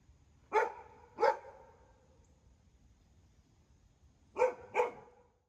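Two pairs of sharp barks from Minnie, a household dog, one pair early and another near the end with a quiet pause between, fairly close and clear over faint background hum.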